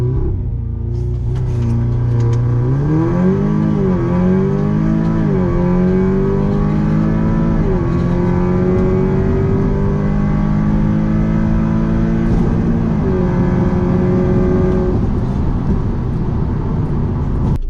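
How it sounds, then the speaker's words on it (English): An Audi TTS (MK2) fitted with a carbon fiber intake is heard from inside the cabin while driving, the engine note rising steadily through several gears with brief dips at each shift, loud and continuous with no speech. "we'll just get some raw POV driving noise"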